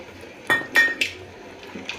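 A spoon or ladle stirs wheat halwa with ghee-fried cashews in a metal pan, giving three distinct clinks and scrapes close by, then softer taps against a quiet background.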